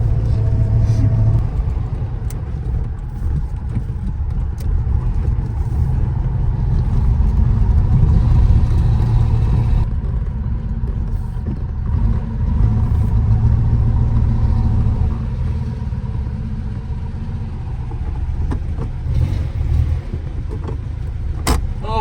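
A Volkswagen SP2 driving on the road, heard from inside as a loud steady engine drone and road rumble that swells slightly under acceleration and holds for the whole stretch, with no talk.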